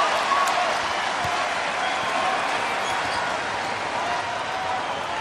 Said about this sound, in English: Crowd still buzzing on that wizardry.